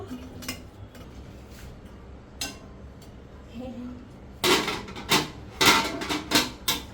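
Children stir noodles in a pan on a stove turned low: quiet scattered taps at first, then a run of louder, close scraping and clattering strokes toward the end, with faint voices in between.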